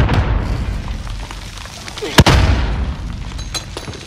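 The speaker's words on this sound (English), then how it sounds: "Throwing grenade! Frag out!" A frag grenade explodes in the video game Warzone with a sharp, loud, nearby crack and a low rumbling boom. Game noise continues around the blast.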